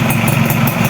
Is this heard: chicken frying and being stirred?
no